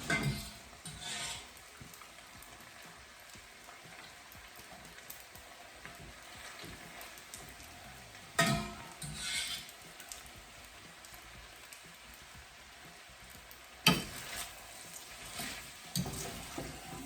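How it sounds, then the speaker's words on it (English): A faint, steady sizzle of pasta and frozen peas being stirred in a hot pan, with a few louder scraping clatters at intervals. "I've got all the pasta in and mixed up with the frozen peas."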